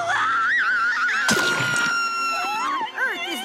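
A cartoon character from The Cramp Twins screams loudly and continuously, a high wavering shriek with a sudden harsh burst midway, while other voices and busy animated sounds play underneath.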